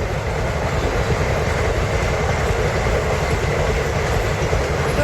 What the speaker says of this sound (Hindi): बगल से ट्रेन जा रहल है